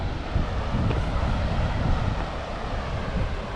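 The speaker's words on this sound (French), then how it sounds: "Un peu de vent." Steady broadband wind rumble buffeting the microphone beside rocky river bathing spots in the Vallée de Cance, Ardèche, continuous and fairly loud with no gaps, a low roar throughout.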